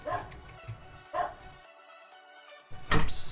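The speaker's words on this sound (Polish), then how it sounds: "Piesek mi tam szczeka." A dog barks several times in short yips amid background game sound and some talk, moderately close and fairly loud.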